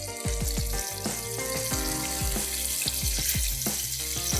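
Fish deep frying in hot oil in a pan, a dense continuous bubbling sizzle with crackling pops throughout, close and steady.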